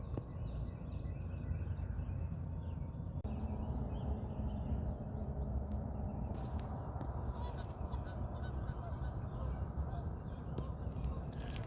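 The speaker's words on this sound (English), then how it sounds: "I just had these 2 geese come laying next to my decoys" Geese honk repeatedly over a constant outdoor wash of noise in Kentucky during turkey hunting, their calls moderately distant and overlapping.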